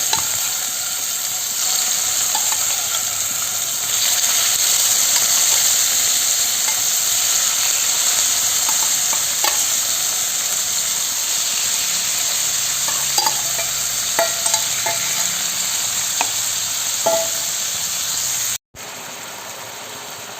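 Medium-sized marinated prawns fry in a pan, a loud, steady close sizzle with occasional light clinks and scrapes of stirring, briefly cut by a moment of silence near the end.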